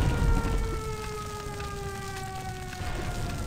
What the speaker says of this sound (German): Und die Sirene macht's nicht besser.